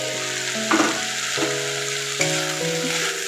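Banana flower mixture stirred with spices in a wok, a steady sizzle under scraping stirring strokes with a few louder clatters, no talk.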